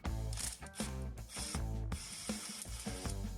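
A socket ratchet clicking in quick, repeated strokes while loosening bolts on the 3800 V6 engine of a 1998 Pontiac Firebird during an intake gasket replacement, close and clear, with brief pauses between runs and no talking.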